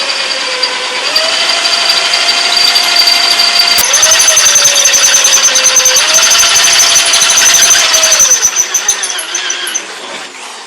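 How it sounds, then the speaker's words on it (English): A power drill runs loud and close with a high whining motor, its pitch dipping and rising as it bites, then winding down near the end, drilling a bolt hole during a Jeep TJ Wrangler oil pan skid plate install. "Now that we've got that hole drilled"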